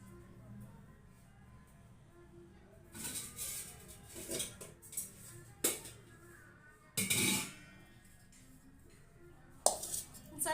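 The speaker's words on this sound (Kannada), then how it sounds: "ಪಾತ್ರೆ ತಗೊಂಡಿದ್ದೀನಿ ವೀಕ್ಷಕರೇ" Metal pots and utensils clink and clatter in a home kitchen while festival sweets are prepared, with several sharp knocks scattered over about ten seconds under a quiet background.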